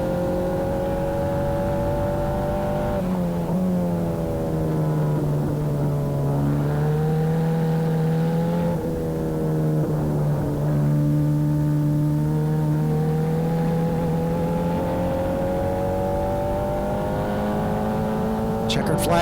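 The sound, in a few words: Formula 4 race cars racing past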